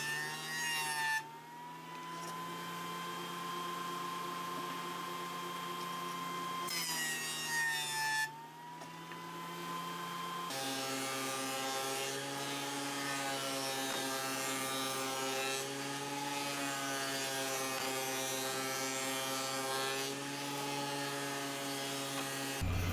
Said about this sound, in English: then I will cut them to exact size on the table saw